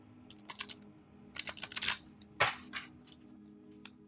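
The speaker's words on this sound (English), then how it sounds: "I'm going to give these a good shuffle" Herbal astrology cards being shuffled by hand, heard as several quick bursts of crisp papery riffling and flicking, spaced irregularly with brief pauses between, close and fairly quiet.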